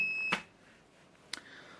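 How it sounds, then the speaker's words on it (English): Two short electronic beeps from a home-brewery temperature controller with its mash tun probe not connected, one near the start and another about a second later, in an otherwise quiet room. "if I turn it down to the mash tun, it will beep because it's not connected."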